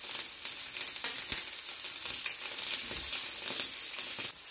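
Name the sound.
kafta meatballs browning in a frying pan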